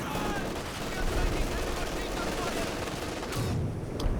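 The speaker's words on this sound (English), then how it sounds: "Now we've got some light artillery dropped on these Soviet team weapons." Light artillery fire in the Company of Heroes 2 multiplayer battle, a dense continuous rumble of explosions and gunfire filling the mix, with a commentator's voice running over it.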